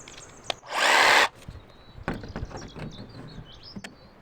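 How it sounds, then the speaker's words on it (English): A jigsaw makes a practice cut in a Transit van's metal roof, with tape laid on the surface. One loud buzzing burst of about half a second is followed by scattered clanks and handling noises. "It's literally the first time I've ever used a jigsaw in my life"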